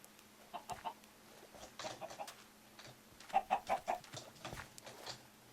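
Minecraft chickens cluck in the game, a quiet scatter of short clucks with a quick run of several clucks in a row partway through.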